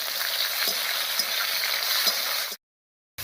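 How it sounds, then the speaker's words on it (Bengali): Three or four green chillies hit hot oil over a tempering with tomato, making a steady close sizzle and crackle with faint stirring taps while cooking a bitter-vegetable shukto dal, until the sound cuts out abruptly near the end. "এবারে দিয়ে দিচ্ছি তিন চারটে কাঁচা লঙ্কা"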